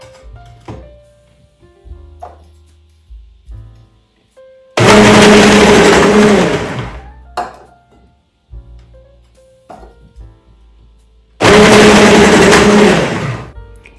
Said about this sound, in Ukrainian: тепер перевіримо, як блендер впорається з натиранням